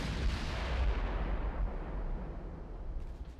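Heavy naval gunfire and shell hits on warships in the Ultimate Admiral: Dreadnoughts battleship game, including a 15-inch hit; a loud, rumbling barrage of deep booms that fades slightly toward the end.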